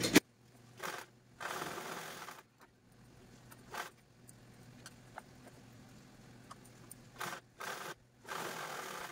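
A sewing machine stitches the sides of a party-wear designer purse in short bursts, several runs of stitching separated by quiet pauses, close and moderately loud against a low steady hum.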